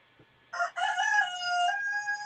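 A rooster crowing once, loud and clear in a quiet setting, a drawn-out cock-a-doodle-doo after a brief pause.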